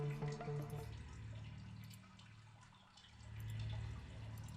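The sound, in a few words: water flowing and dripping in a cave, from video game Sisyphus Reborn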